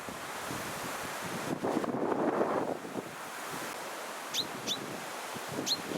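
Strong, gusty wind roaring on a roadside in the Beloretsk district of Bashkortostan, with a louder surge near the middle and a few brief bird chirps near the end.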